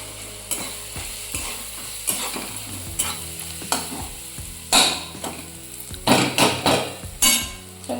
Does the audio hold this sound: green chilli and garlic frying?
yes